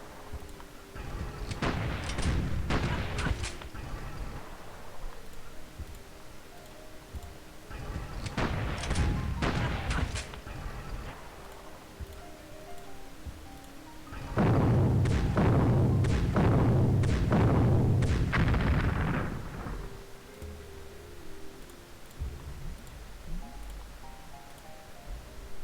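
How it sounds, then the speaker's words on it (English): Artillery fire in the Civilization III strategy game, during a World War 2 scenario with Germany, sounds as three clusters of booming, crackling shots separated by quieter stretches, the last volley the loudest and longest. "I forgot they had artillery here."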